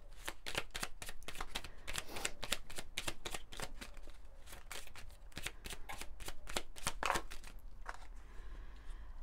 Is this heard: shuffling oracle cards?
yes